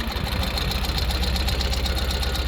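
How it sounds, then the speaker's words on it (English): A 2024 Ural Base Gear Up 2WD sidecar motorcycle engine runs steadily in reverse at a crawl, a continuous close mechanical thrum with knocking ticks and no talk over it. "simply squeeze our clutch, push on our reverse lever, and backwards we go"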